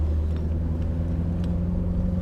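A Chevrolet Corvette C7 Z06 engine rumbles steadily at speed on a race track, a low continuous drone heard from inside the car.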